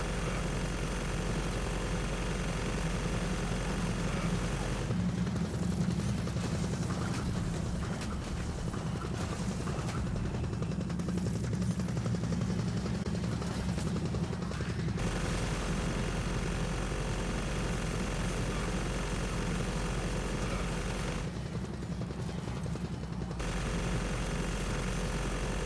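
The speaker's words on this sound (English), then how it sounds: "Yo, that plane is loud." A loud aircraft in the video game Gears of War 4 gives a sustained heavy mechanical drone with a deep rumbling low end that surges and shifts in several bursts, with no talk over it.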